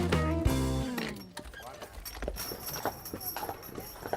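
A team of horses pulls a driven vehicle along a road, their hooves clip-clopping in a steady rhythm at moderate distance after a brief louder noise at the start.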